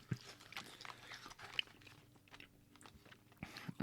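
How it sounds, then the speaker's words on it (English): Someone chewing hard candy close to the mic, irregular quiet crunches and mouth sounds spread across several seconds, faint and alone without speech. "these things are so hard to chew"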